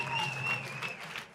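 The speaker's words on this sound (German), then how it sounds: "Applaus für dieses Finale hier" Crowd applause at the final of a freestyle rap battle in Cologne, a short burst of many hands clapping with some cheering mixed in, fairly loud and steady, with a faint voice in the background.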